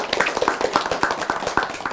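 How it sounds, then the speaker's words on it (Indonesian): Brief burst of audience applause at an Indonesian religious Q&A talk, many hands clapping in a quick, dense patter that stays fairly steady for a couple of seconds. "Tepuk tangan dong."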